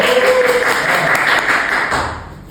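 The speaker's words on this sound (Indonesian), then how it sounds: "Tepuk tangan dulu dong buat Genbi." Applause from a campus talk-show audience, a steady wash of many hands clapping that holds for a couple of seconds before tapering off at the end.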